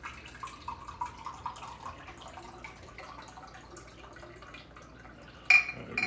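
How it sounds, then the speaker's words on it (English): Rice vinegar is poured into a bowl, a faint, soft trickle of liquid lasting several seconds and ending with a brief clink. "We're gonna add about a half a cup of rice vinegar."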